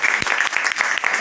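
An audience at a Hindi comedy poetry recital claps together, a brisk burst of dense applause that carries on loudly for the whole moment.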